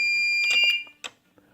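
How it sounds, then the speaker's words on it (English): A pump timer alarm system emits a steady electronic alarm tone that cuts off partway through, followed by a few brief clicks and knocks in near silence. "as soon as the alarm comes on,"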